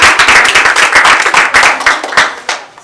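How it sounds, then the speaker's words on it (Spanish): A crowd claps in a dense, lively burst of applause that gradually thins out and fades toward the end. "unos aplausos para Kate."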